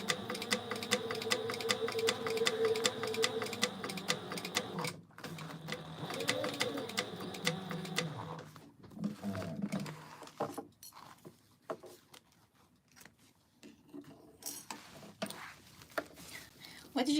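A sewing machine stitching a mini backpack runs in rapid, steady bursts at close range, pausing and restarting, with quieter handling sounds and brief talk later on.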